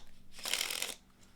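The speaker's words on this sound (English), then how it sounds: "They could shuffle as much as they want" Deck of playing cards shuffled by a spectator during a card trick, a single quick riffle with a brief crisp fluttering burst, close and fairly soft, heard alone.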